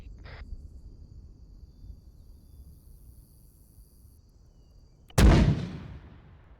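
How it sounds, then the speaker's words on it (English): A single loud mortar blast in an Arma military game cracks out near the end after a quiet stretch of insect-like ambience, decaying in a rumbling tail. "I'm gonna send some more mortars out there"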